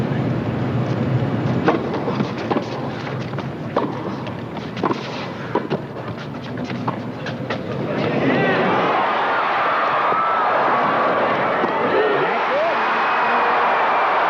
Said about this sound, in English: Crowd on their feet at the Omni as McEnroe breaks Wendell.